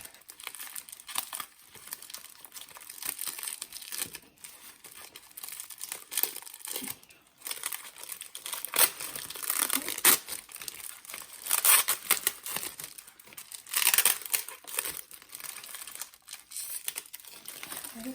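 Taped plastic packaging being pulled off a plant cutting, with close, faint crinkling and crackling and occasional tearing of tape in irregular bursts.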